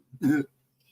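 A single short cough, close and fairly loud, with a faint throat sound just before it and quiet afterward.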